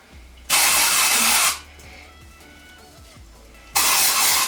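Two loud bursts of hissing aerosol hair product sprayed at the roots, one long and one shorter, separated by a quieter stretch with faint background noise.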